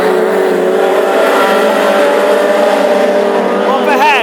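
Classic hot rod race cars roar past at the Irish Grand Prix in Tipperary, engines loud and sustained at full throttle, with a rising, revving engine note near the end while a race commentator talks over the noise.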